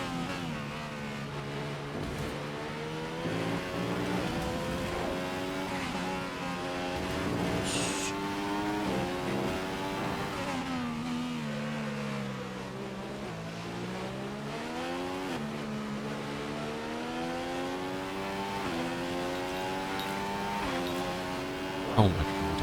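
A Formula One race car engine in the F1 2015 video game at Melbourne whines loudly and steadily, its pitch rising and falling through gear changes and throttle for the whole stretch, with no talk over it.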